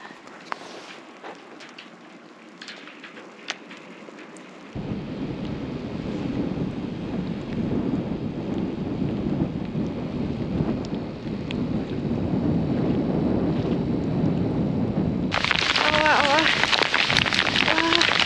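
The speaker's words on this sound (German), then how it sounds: "So, der Regen und der Hagel ist da" Rain and hail come with gusting wind during a Peruvian mountain bikepacking ride. The wind-buffeted roar grows steadily louder and then surges into a harsh, dense clatter near the end, with voices faintly in the mix.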